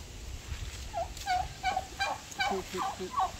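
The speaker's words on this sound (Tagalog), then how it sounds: "dami pong pabo" A flock of turkeys gobbling in quick overlapping bursts, several birds calling close by over a low rumble of outdoor noise.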